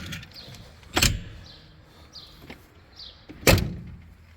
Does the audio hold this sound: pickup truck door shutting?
yes